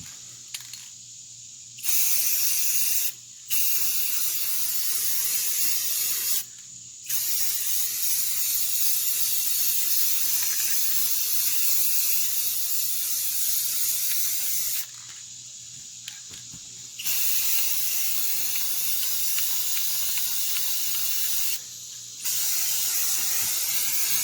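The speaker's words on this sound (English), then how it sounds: "we're going to put on some of this gloss clear enamel here, this clear coat" Gloss clear enamel spray coats a 3D printed shield in repeated long hissing bursts, loud and close, separated by short silent pauses.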